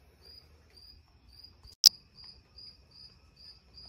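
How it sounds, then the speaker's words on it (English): Crickets chirp in a steady, evenly spaced rhythm at night, soft and continuous, with a single sharp click partway through. "you guys get the absolute most obnoxious sound in the world, chirping crickets"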